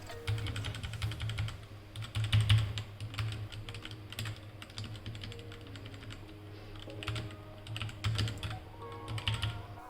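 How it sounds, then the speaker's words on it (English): Steady typing on a Redragon Draconic Pro K530 mechanical keyboard with linear red Cherry MX switches, a rapid stream of close key clacks with a low hum underneath, no talking. "Now let's check the sound of these linear red cherry MX switches."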